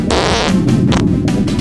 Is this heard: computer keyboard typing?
no